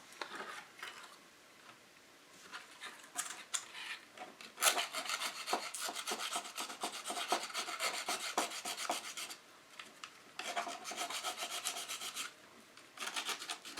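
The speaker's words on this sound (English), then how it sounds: "I'd rather it be too big so that way I can sand it and fit it than be too small." A resin model body of a 1973 Pontiac Firebird Trans Am is sanded and filed by hand, close rasping and rubbing strokes in a quick rhythm that run in long bursts with brief pauses, no talk.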